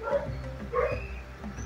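Dog barking and whimpering nearby, short yips and a whine breaking through a steady low background hum, heard indoors.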